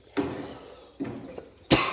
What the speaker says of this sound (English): But I had a cough again.